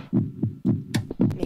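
Heartbeat palpitations in the video game Lullaby, a loud, close, steady double-thump pulse repeating about three times, with no talking over it.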